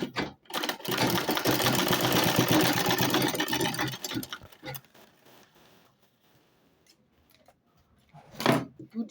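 A sewing machine stitches Ankara fabric for a wide-bottom tote bag, running steadily for about four seconds, then falling quiet with a few handling clicks and a brief rustle near the end.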